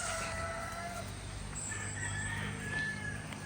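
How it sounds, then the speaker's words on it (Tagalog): A fighting rooster crows faintly in the distance over quiet outdoor ambience in the Philippines, its call drawn out against a soft background hiss. "Ito may, may manok din po kami panabong."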